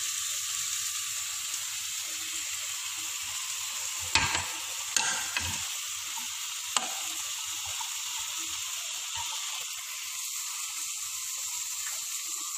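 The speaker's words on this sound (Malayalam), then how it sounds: "നാളികേരത്തിൻ്റെ കൂടെ തന്നെയാണ് കാഷ്നട്ടും വറുത്തെടുക്കേണ്ടത്." Grated coconut and cashew nuts dry-roasting in a pan give a soft, steady hiss. A few sharp scrapes and taps from stirring come through, and no one speaks.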